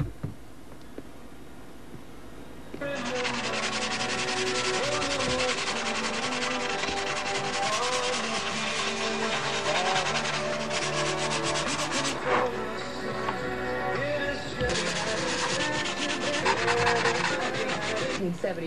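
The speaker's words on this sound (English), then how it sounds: "So I got all these sanded in real nice, these joints all real nice" Wooden joints being hand-sanded with fine 320-grit sandpaper: close, steady rubbing strokes that start after a quiet moment and continue for the rest of the clip, with no talking.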